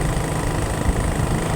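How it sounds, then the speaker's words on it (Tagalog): A motorcycle engine runs on a farm with a steady, low, even idling drone throughout. "Kay nagdagan magud ang motor."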